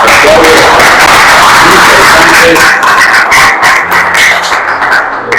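Loud audience applause at a talk with studio photographers, dense steady clapping filling the whole stretch and thinning slightly toward the end.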